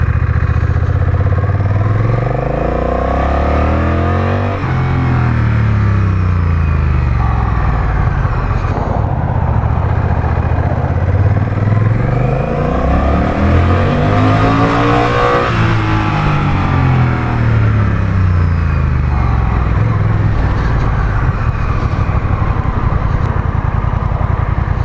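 Honda Rebel 1100 DCT motorcycle with dual clutch transmission, its engine droning loud and close from the rider's position, rising in pitch through repeated accelerations with automatic gear changes and wind noise.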